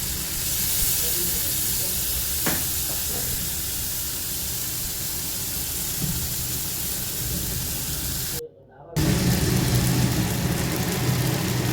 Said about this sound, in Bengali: এই যে এখানে মশলাটা ভাজা হয়ে যাচ্ছে।